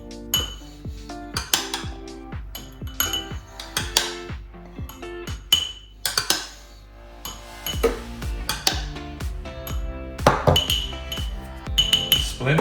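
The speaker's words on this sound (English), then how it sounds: "So I tend to scoop the froth in first." A spoon scoops frothed milk into a glass for a homemade caramel macchiato, producing repeated bright clinks and taps against glass and metal, close and fairly loud, in irregular bursts.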